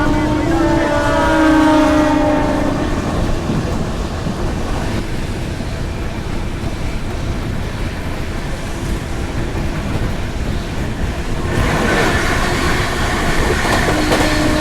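Brindavan Express passenger train running from Bengaluru to Chennai, a loud continuous rumble of the carriage with rhythmic wheel clatter and wind buffeting the microphone, with no talking.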